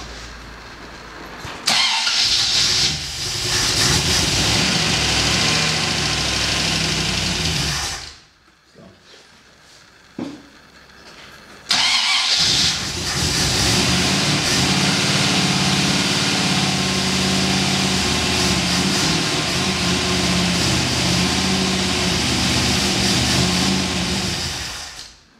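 A Triumph TR8 engine cranks and fires into a loud, steady run, cuts out briefly and goes quiet, then restarts and keeps running at a close, even idle with no talk over it.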